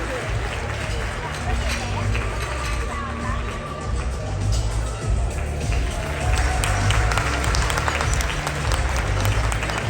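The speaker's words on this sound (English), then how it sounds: "Give a round of applause to them" Audience at an áo dài fashion show applauds loudly, a sustained dense clapping with crowd murmur and some voices mixed in throughout.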